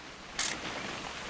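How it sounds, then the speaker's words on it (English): A single short mechanical camera shutter click in the video game What Remains of Edith Finch, sharp and close, over a steady hiss of outdoor ambience. "Just want to get a shot of you, Dawn, then we can take off"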